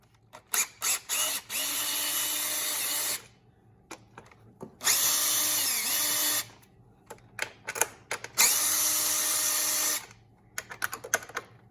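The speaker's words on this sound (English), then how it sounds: "Pull all your bolts off for the coil pack using a drill or a cordless impact" A power drill whirs in three sustained bursts of a few seconds each, removing coil pack bolts from a BMW 328i engine, separated by clicks and clanks of tools being handled.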